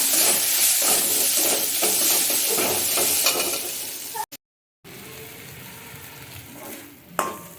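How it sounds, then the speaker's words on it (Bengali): A spiced fish mixture with garam masala and chaat masala frying and being stirred, a busy close sizzle with rhythmic scraping that gives way to a brief silence and then a quieter hiss. "আর একটু ভেজে ভাজা ভাজা করে নেব"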